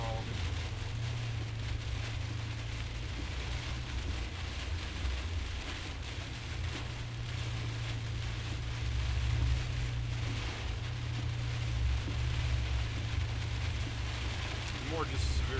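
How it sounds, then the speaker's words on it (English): Steady, dense downpour of heavy rain during a severe thunderstorm in Florida, with a constant low rumble beneath, like rain drumming on a vehicle while it drives. "Man, we got some heavy damn rain, I can tell you that."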